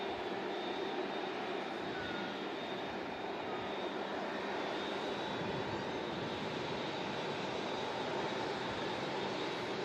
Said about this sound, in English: The PC-12 that we saw at land earlier, that's over on the far side now, just about to depart off 23 left.